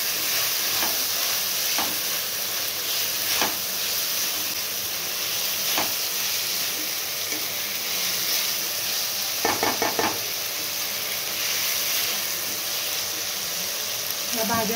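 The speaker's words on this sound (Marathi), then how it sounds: "व्यवस्थित हलवून घेऊ।" Capsicum and cauliflower frying in a pan while being stirred, a continuous sizzle broken by occasional scraping strokes and a brief rattling burst near the end.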